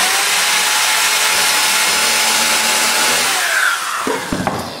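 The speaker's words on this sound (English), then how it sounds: "We'll go ahead and we'll drill this in the bottom" A power drill whines steadily while driving a 2-inch screw into the bottom of a wooden skiff, loud and close, then winds down with a few clunks near the end.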